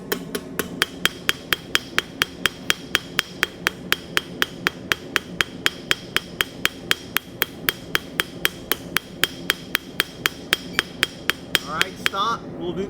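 Steady, rapid hammer blows strike hot metal during forging, dozens of sharp, evenly spaced ringing impacts close by, with faint voices underneath.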